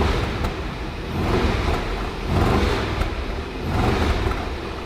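A deep V8 car engine rumbles steadily and slightly rough, swelling in three slow revs, with no voices.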